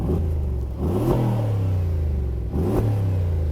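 A Mercedes G700 Brabus 4x4² engine rumbles close and loud, revving up twice with a rising roar before settling back to a deep idle.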